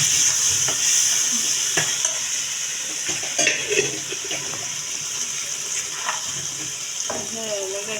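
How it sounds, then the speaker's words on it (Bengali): Dried chepa shutki fish is stirred with potato and onion in a pan, with scraping and soft sizzling under a constant hiss while faint background sounds come and go. "এটা চেপা শুটকি দিয়া শুটকি বোনা শুটকি লাড়া"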